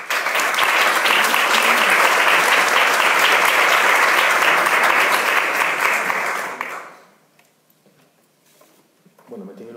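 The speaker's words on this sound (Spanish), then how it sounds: "Un fuerte aplauso." Loud, dense applause from an audience at a Spanish-language speaking contest, a thick roar of clapping that holds steady for several seconds, then fades quickly into near quiet, with a brief voice starting at the very end.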